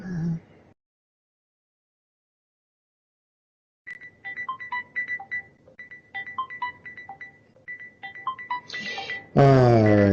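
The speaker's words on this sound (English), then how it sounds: "I need to take this phone call" A phone ringing with an incoming call during a Gran Turismo 7 session: after a short burst of sound and a long silence, a repeating electronic ringtone of bright chirping tones plays, followed by a loud voice-like sound at the end.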